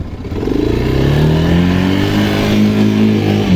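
A Geon Light 250 motorcycle engine revs loud and close in a snowy forest, its pitch climbing steadily into a sustained, rising drone.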